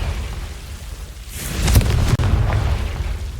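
Confringo blasting spell from the game Hogwarts Legacy: one deep, rumbling explosive boom swells mid-clip, with a crackling burst and a sharp pop after it, over a low continuous background rumble.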